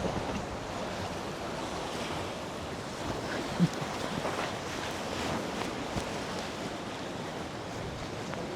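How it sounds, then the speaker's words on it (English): Rough sea waves crashing continuously on the shore right by the water, a steady loud broadband roar with gusting wind buffeting the microphone. "we are right down by the water and the waves are crashing like crazy"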